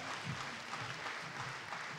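Audience at a concert in Baku applauds after a performer is introduced, a steady, fairly faint wash of clapping throughout with no voices.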